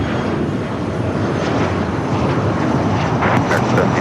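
A jet airliner at LAX roars steadily during its takeoff roll on runway 25 right, a loud continuous engine rumble and wind-blown rush with no break.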